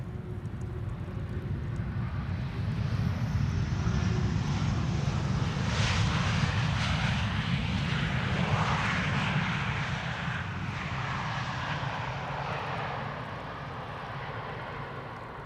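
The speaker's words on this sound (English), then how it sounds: "E2 Embraer 195, touching down here." An Embraer E195-E2 jet touches down on runway 18R at Amsterdam Schiphol, a loud, sustained broadband engine roar that swells and lingers across the whole span with no talk over it.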